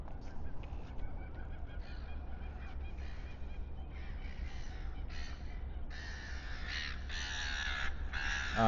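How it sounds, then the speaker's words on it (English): Seagulls call in Sydney Harbour in the early morning, a series of faint, scattered cries over steady low harbour rumble, growing slightly busier toward the end. "There's my friends, the seagulls."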